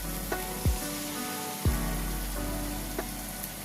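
Cauliflower korma masala with ground cashew paste frying in oil, a continuous sizzle broken by several sharp scrapes and knocks of a spoon stirring the pan, close and alone.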